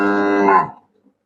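A dairy cow gives a single loud, close moo lasting under a second, falling away into silence.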